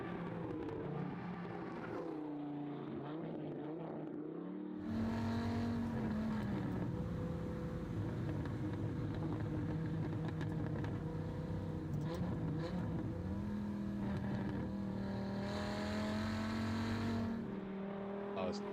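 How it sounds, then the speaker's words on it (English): A car engine revs hard and loud, its pitch rising and falling through sustained high-rpm pulls up close, a quieter idle at first giving way to a strong roar that holds for most of the run. "Rev that boy."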